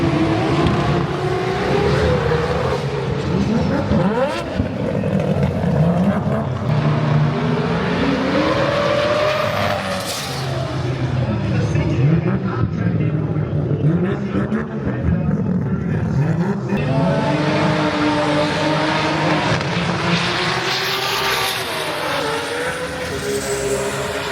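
A loud engine roars and revs at length as a Barra-powered Cutlass drag car makes a run, pitch sweeping up through gears, with crowd and track noise underneath.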